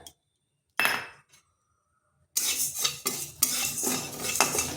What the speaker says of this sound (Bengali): মুগ ডালটাকে হালকা একটু ভেজে নেব।